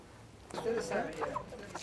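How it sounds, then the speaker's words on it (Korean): A chicken, held by a grandmother in a remote village beside the Uyuni salt flat in Bolivia, clucks in short close bursts amid background commotion after a quiet start. "닭 한 마리를 잡아든"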